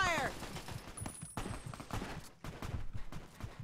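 Rapid gunfire in the video game Fallout: A Tale of Two Wastelands during a sniper fight, a dense crackle of repeated shots at moderate level that breaks off briefly, with talk mixed in.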